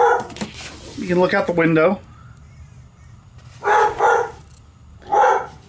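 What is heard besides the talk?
dog barking outside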